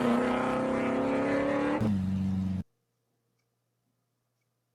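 Mustang race cars in an enduro race, a loud sustained engine drone with steady harmonic whine that shifts pitch briefly, then cuts off abruptly into silence.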